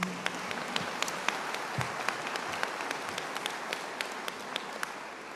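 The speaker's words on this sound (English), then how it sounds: "Yeah, round of applause." A crowd claps at a commencement ceremony, steady broad applause with individual sharp claps popping out close by throughout.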